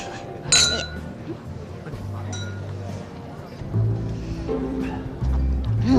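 Drinking glasses clink together in a celebratory toast among diners at a group meal, a few bright chinks near the start, with people chatting and cheering around them at close range.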